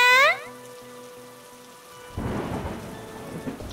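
Rain falls in a Bangla cartoon, entering after a short bright tonal jingle as a steady, fairly loud wash of rainfall with rumbling low thunder, with no voices.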